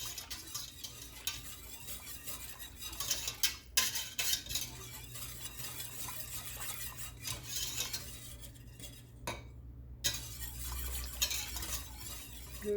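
A spoon scrapes and stirs through mac and cheese in a pot on the stove, giving continuous rasping and clinking strokes with a faint sizzle underneath, close by and steady for several seconds.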